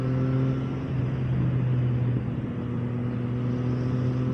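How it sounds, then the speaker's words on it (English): Steady, droning hum of a Triumph Street Triple three-cylinder motorcycle engine at highway speed in sixth gear, a constant mid-loud drone with only slight rise in intensity. "And I do like the sound of the triple."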